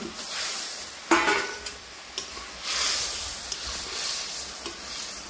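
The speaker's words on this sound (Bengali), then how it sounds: "ঝোল ফুটে গেলে ভাজা ডিমগুলোকে দিয়ে দেব।" Fried eggs going into bubbling gravy for a poppy-seed paste egg curry, heard as a steady sizzle with a few sharp utensil clinks and stirring scrapes close by, no voices.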